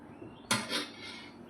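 A spoon stirring milk and ghee in a small bowl makes one sharp metallic clink, then a softer scrape and ring that fades quickly.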